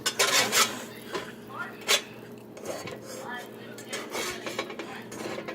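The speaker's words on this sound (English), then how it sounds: "get some type of butter knife, put it on the pot, and rub it" A butter knife scrapes and rubs around the inside of a pot, giving uneven metallic scraping, clinks and rasps up close, with a voice talking in the background.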